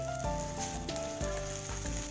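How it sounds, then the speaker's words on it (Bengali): Salted, turmeric-rubbed prawns go into hot oil with browned onions for a bottle gourd ghonto, giving a soft, steady sizzle that sits faintly beneath sustained tonal sounds. "এবার আমি এর মধ্যে চিংড়ি মাছগুলো দিয়ে দিচ্ছি।"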